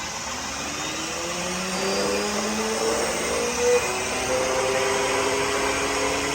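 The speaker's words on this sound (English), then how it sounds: "Now I'm going to hit the switch to that and watch this motor and the sludge go." A homemade pulse motor is switched on and spins up, a whirring motor hum with rising tones that settles into a steady drone, no talking.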